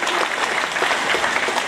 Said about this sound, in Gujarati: સૌથી પહેલા તો જોરદાર તાળીઓથી આપણે એમને વધાવી લઈશું